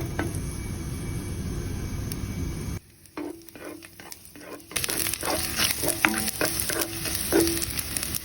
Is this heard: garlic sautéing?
yes